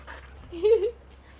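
A puppy gives a single short, soft whimper, a brief rising whine indoors at close range, with no talk over it.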